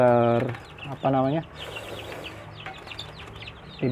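Young kampung chickens cluck and cheep close by, several short pitched calls near the start and then softer bird sounds over a steady background hum.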